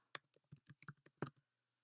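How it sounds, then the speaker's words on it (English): Quick bursts of typing on a computer keyboard, about a dozen crisp clicks in an uneven, hesitant rhythm, close and fairly quiet, with no voice over them. "whoops, I can't type very well."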